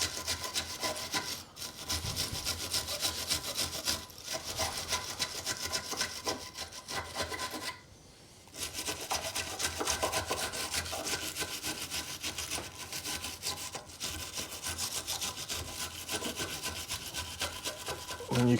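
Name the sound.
scrubbing metal anti-rattle brake pad shims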